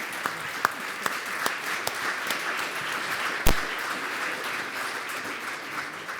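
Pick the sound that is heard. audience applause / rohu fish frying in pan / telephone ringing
audience applause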